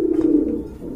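A pigeon from a pair kept for sale gives a single short, throaty coo, close and clear against a quiet background.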